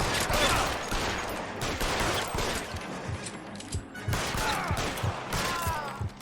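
Gunfire in the video game L.A. Noire comes as a rapid, continuous volley of shots with crashing impacts, dense and loud throughout with no pauses.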